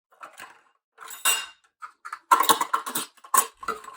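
Spoons are set into a 3D printed silverware tray with light, irregular clicks and clatters, a few sharp taps clustered close together and near.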